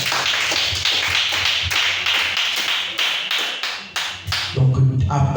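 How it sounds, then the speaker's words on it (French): A church congregation claps and cheers for the pastor's wife, a dense burst of close, loud applause with quick rhythmic hand claps that thins near the end as voices rise. "Une sœur acclamez très fort pour maman Sion."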